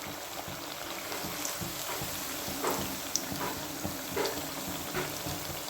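Rice flakes vada made with kattuyanam rice frying in hot oil, a steady close sizzle and bubbling with occasional pops and a faint stir, no talking over it.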